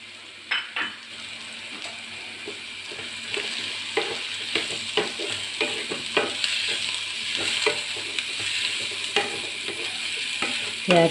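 Capsicum and onion frying in a pan with a continuous sizzle, punctuated by repeated clinks and scrapes of a utensil stirring against the pan.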